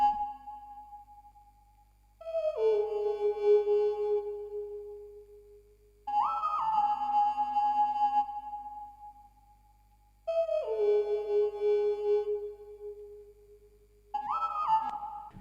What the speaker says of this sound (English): It's just the lead softy from the Adapt Volume 2 Serum preset